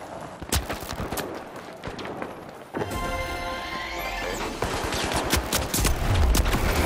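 Rapid gunfire from the video game THE FINALS, bursts of fast automatic shots with clattery impacts and a busy, loud game mix, no talking.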